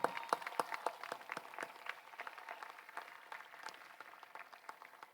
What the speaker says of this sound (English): So a big round of applause to all our graduates, class of 2024.